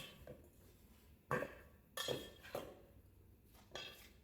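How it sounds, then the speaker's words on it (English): Watermelon pieces being mixed into an arugula salad in a bowl, giving a few separate clinks and scrapes of utensils against the bowl at irregular intervals, fairly quiet and close, with no talking. "So I'm going to put the watermelon in there and again mix it"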